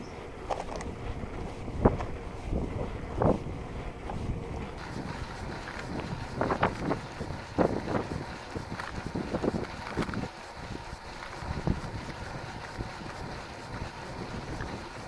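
A small fishing boat speeds up on the water in drizzle, with wind buffeting the microphone, splashes and thumps against the hull, and a low engine drone underneath, fairly faint and without talk.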